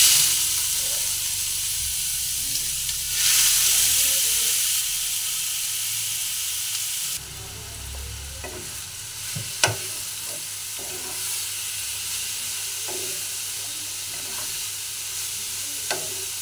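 Papaya pieces fry in a hot spiced tempering for papaya ghanto, a loud sizzling hiss that settles into quieter crackling, with sharp clatters and scrapes from stirring.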